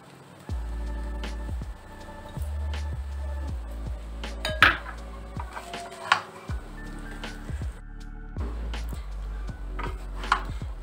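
Fried rice with spring onion and pepper being stirred in a pan on a gas stove: irregular scraping and clanking of a utensil against the pan over a steady low hiss of the flame, fairly quiet and close.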